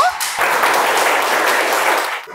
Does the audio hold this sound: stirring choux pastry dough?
no